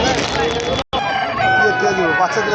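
A rooster crows loudly and close at a busy chicken market, its long harmonic call broken by a brief gap, with clucking fowl and faint crowd babble around it.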